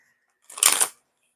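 Tarot cards being shuffled in one quick, close riffle lasting about half a second, a dense papery flutter that swells and fades with no talk over it.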